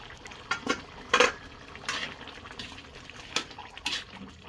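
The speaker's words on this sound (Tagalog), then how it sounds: "Kumukulo na siya." Pot of pinakbet with sweet potato at a boil, soft bubbling and liquid churning with a few sharper clinks or splashes, close and moderately quiet, no talk.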